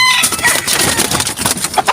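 Chickens kept as backyard fowl cluck and squawk close by in a dense, overlapping flurry of short calls.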